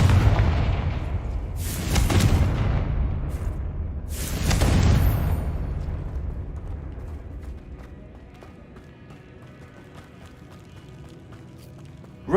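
Confringo explosion spell cast in a Harry Potter video game: two heavy booming blasts about two seconds apart, each fading into a low rumbling tail that settles into quiet background ambience.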